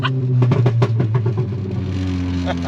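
Audi S3 running a stock turbo on a stock block engine, revving hard up close with a deep, rising exhaust note and a few sharp pops and crackles over a steady rumble.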